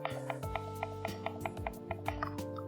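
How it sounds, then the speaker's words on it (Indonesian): A Logitech Pebble mouse clicked repeatedly at a steady quick rhythm, small crisp ticks close up over a faint background hum, with no talking. "Ini yang mouse Pebble."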